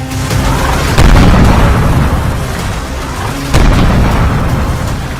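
Heavy explosions and air strikes in Baghdad, Iraq, boom one after another. Two big blasts stand out over a constant rumbling din, and no voices are heard.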